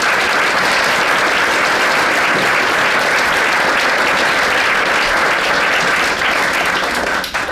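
Loud, dense applause from an awards ceremony audience, many hands clapping continuously at full strength for several seconds before beginning to fade at the very end.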